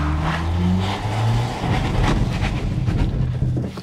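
An electric BMW i4 M50 launching hard from a standstill under launch control, wheels scrabbling for grip: a loud, close surge of motor whine with rising tones over broad tyre and road roar, sustained throughout, no talking.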